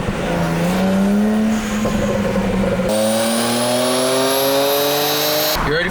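A tuned BMW 335i engine revs hard, its pitch climbing steadily in two long pulls with a break between, loud and close with no talk over it.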